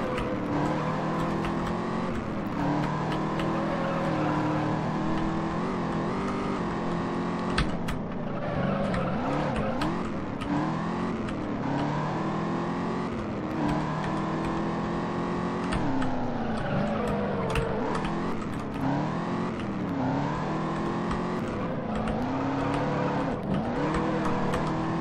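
A 1967 Mustang races in Juiced, its engine droning and revving continuously up and down through gear changes, with tire squeal and skidding mixed in, loud and close throughout without talk.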